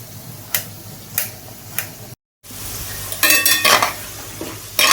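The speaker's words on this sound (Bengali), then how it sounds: "এরপরে ভালো করে ভেজে নেই" A pan fries potatoes with a steady hiss while a utensil taps and scrapes a few times, then a louder stretch of crackling stirring.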